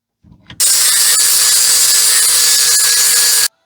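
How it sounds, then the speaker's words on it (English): A power grinder bites into a metal cup during a repair, a loud, harsh continuous whine lasting about three seconds after a brief clatter, then cutting off abruptly. "Do a little grinding on it."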